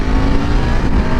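A BMW F 750 GS motorcycle rides and shifts, its engine loud and close with a dense, rough roar that stays strong through the short burst, no talking.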